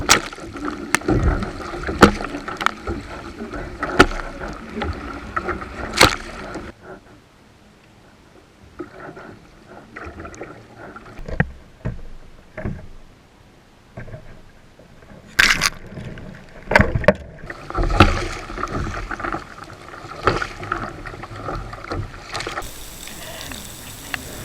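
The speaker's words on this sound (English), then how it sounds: "Hell of a long way to paddle for nothing so far" An offshore fishing kayak paddled out at sea, with rhythmic splashing paddle strokes and water sloshing against the hull in bursts, a quieter stretch midway, then more strokes close by.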